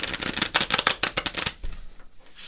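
Tarot cards shuffled in a rapid run of crisp riffling flicks that thin out toward the end, close and clear with no talking.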